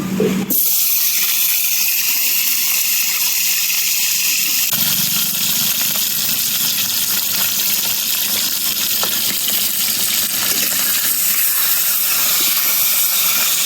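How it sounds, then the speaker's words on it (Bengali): Potatoes fry in mustard oil with a loud, continuous hissing sizzle that swells sharply at the start and shifts again partway through. "এখন একটু সর্ষের তেল দিয়ে দেবো। লাল লাল করে আলুটা ভেজে নেব"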